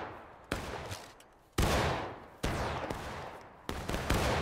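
Massed Civil War musket volleys in War of Rights crash out in four loud bursts about a second apart, each fading into a rolling echo and scattered shots.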